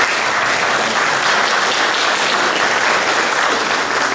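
A hall full of people at a diabetes society's annual meeting applauds the mayor: dense, loud, even clapping that holds steady for several seconds.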